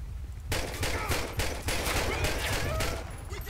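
Rapid bursts of gunfire crackle in a GTA 5 LSPDFR police shootout with a gang, repeated volleys close and loud for a few seconds, with faint voices beneath.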